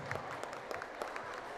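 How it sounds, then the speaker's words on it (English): A crowd claps for student cardboard boat race competitors and builders at a school event, a brief, dense, even patter of distant applause. "Please show our competitors and engineers another round of applause"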